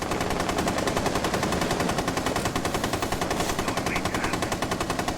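Rapid automatic gunfire from the video game Rainbow Six Siege rattles continuously in sustained bursts, a steady mechanical stutter of shots at moderate volume with no talking.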